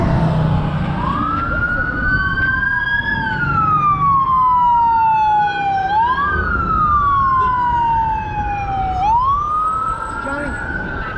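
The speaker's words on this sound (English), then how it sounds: "I hear more sirens" Loud wailing sirens rise and fall in repeated sweeping cycles, close by and continuous, with traffic rumble and some speech underneath.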